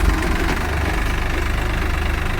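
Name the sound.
Swaraj 744 XT and New Holland 3600 tractor engines running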